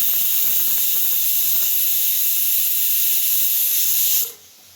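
Spinach sautés and wilts in a hot kadai, a loud, steady, close sizzling hiss that holds for about four seconds and then drops away to near quiet, with no speech.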